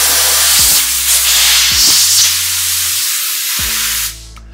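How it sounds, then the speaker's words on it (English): Compressed air from a shop air hose blasts into the B port of a Pentair Südmo F257 pneumatic valve actuator, a loud close hiss lasting about four seconds before it cuts off abruptly. "We'll just grab an air hose and just give it a little bit of a squirt up the B port."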